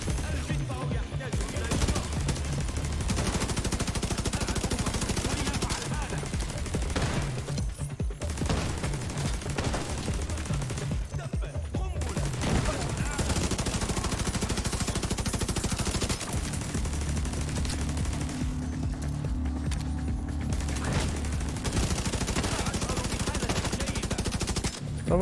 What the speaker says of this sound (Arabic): هذا المدفع فظيع